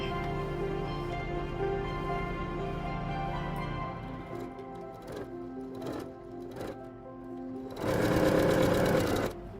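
A sewing machine stitching a fabric neckline for a canvas and lace neck design whirs steadily with a droning hum. It slows into a few short bursts, then ends in a louder, faster run, with no talking.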